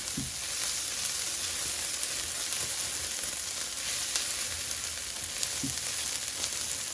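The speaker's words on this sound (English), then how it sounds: "Now, I'm going to add 2 tablespoons of tomato paste. And stir all that in." Beef and tomato paste sizzle steadily in a hot pan, a constant fry hiss with a couple of faint spoon scrapes as the paste is stirred in; no one speaks.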